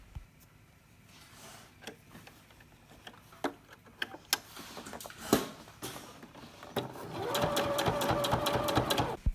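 A sewing machine runs a straight stitch across a fabric duck-bill face mask in short bursts of rapid needle clatter, ending in a longer, louder continuous run.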